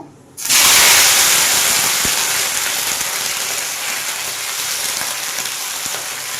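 Apples tipped into hot oil with two dried chillies and a little white mustard seed, a sudden loud broadband sizzle that bursts in after a short quiet start and holds steadily, easing slightly over several seconds.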